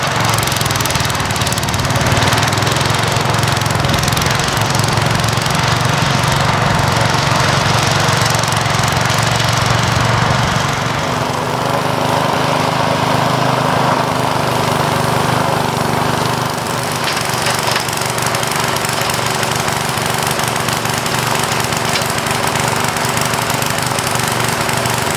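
A newly bought ATV drones close and loud for the full stretch while tilling a food plot, its engine note dropping slightly partway through and then holding steady. No voices are heard.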